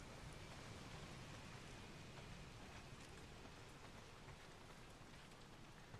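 Steady rain with gusting wind in the video game Days Gone makes a dense, even hiss that fills the scene with no let-up. It is faint and continuous, with no voices.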